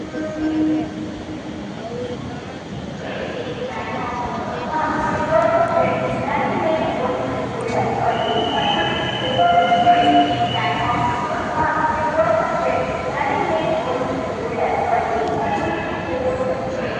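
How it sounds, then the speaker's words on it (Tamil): A suburban MRTS commuter train on the Beach to St Thomas Mount line arrives, with a steady rumbling rolling of wheels on rails, rhythmic clatter and metallic squeals, loud and near throughout. "இந்த பக்கம் வருது பீச்சிலேருந்து சென்ட் தாமஸ் மவுண்ட் போகிற ட்ரெயின்."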